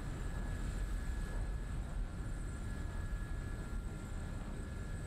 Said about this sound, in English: I hear a jet.